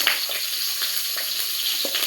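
Chopped chili hitting hot oil already seasoned with black cumin, giving a steady bright sizzle with small crackling pops scattered through the short stretch, close and fairly loud with no talking.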